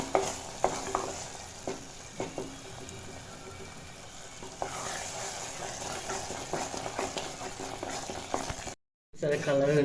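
Carrot halwa being stir-fried in a pan as its water cooks off, a steady soft sizzle with repeated scraping stir strokes, close and continuous before a brief cut to silence.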